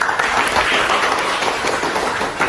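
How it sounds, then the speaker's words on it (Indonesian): Applause from a class of students, a steady wash of many hands clapping together at moderate loudness throughout, with no voices over it. "Oke, kita kasih tepuk tangan."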